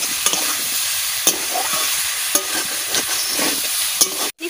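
Jackfruit curry masala is stir-fried in a pan, with a continuous close sizzle broken by regular scraping clicks of the spatula against the pan, and no talking.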